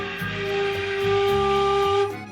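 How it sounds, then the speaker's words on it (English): A low G held steadily on a beginner Yamaha YFL-22 student flute, one breathy sustained note with audible air hiss and a wavering, slightly unsteady tone, played alone and close. "low G sounds like this"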